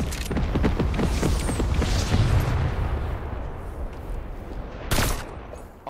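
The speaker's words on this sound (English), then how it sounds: "He's throwing an airstrike." Video game airstrike explosions: a dense run of rumbling booms and blasts for several seconds that fade into a roaring wash, then one sharp blast near the end.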